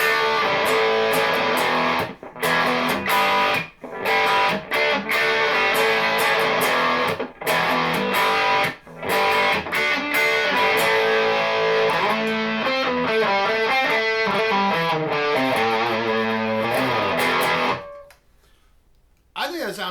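Electric guitar played through an Orange Micro Terror amp with heavy distortion into 1x8 and 2x12 cabinets, loud sustained rock chords with brief gaps, then a fast riff before cutting off near the end.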